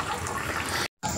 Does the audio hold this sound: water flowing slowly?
yes